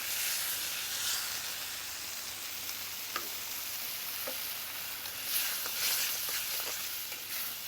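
Balti base sizzles steadily after a second ladle goes into a pressed steel Balti bowl, a close, continuous frying hiss with occasional small pops and spits, no talking.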